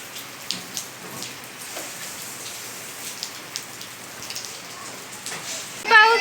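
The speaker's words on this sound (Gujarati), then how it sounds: "અમારે તો આવો વરસાદ છે." Rain falls steadily in a soft, continuous patter, with scattered louder drips striking a surface nearby and a sharper splash or rustle at the end.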